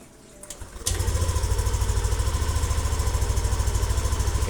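A Yamaha NMAX Turbo scooter engine starts after a brief starter whir, then settles into a steady, close, rhythmic idle putter.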